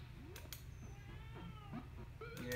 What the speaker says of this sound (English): my cat's meowing at me